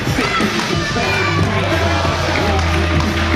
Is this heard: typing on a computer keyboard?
no